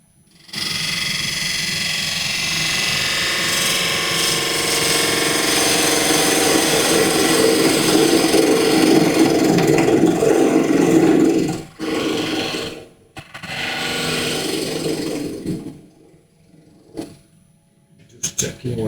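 A spindle gouge cuts a wooden apple spinning on a lathe screw chuck, giving a steady loud scraping whir that runs for about eleven seconds, then breaks into shorter cuts and pauses.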